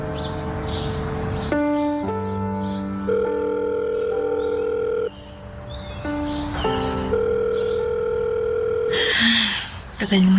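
A telephone tone repeats steadily through the receiver while a caller waits for an answer, with sustained tones and breaks under background music, ending in a brief noisy burst.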